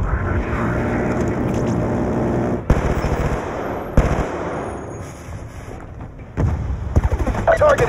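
Rapid automatic gunfire from the Call of Duty Black Ops 2 campaign mission FOB Spectre, loud and sustained bursts with brief pauses and explosive cracks, layered over game music and effects.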